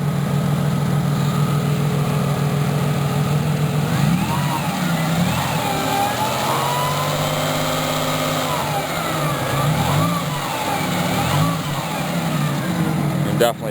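A 1988 Oldsmobile Cutlass Ciera V6 with a failing alternator runs steadily up close, a continuous low engine drone with a faint whine rising and falling over it, while someone talks throughout.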